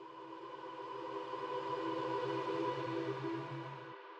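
A quiet reversed reverb swell, a hazy sustained wash of tones that builds gradually and then cuts off abruptly.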